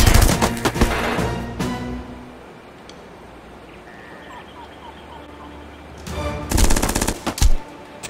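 Rapid machine gun bursts from the tactical game Jagged Alliance erupt loudly at the start and again near the end, with a quieter stretch of faint background noise between them.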